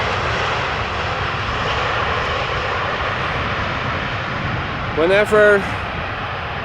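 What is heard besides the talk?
Finnair airplane departing Amsterdam Schiphol Airport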